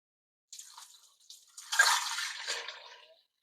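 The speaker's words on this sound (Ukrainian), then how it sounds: "І заливаємо водою." Water poured into a pot over four pig trotters for Transcarpathian pork-hoof aspic, a splashing, gurgling pour that starts softly, then swells loud and steady for about a second and a half before tapering off; no talking.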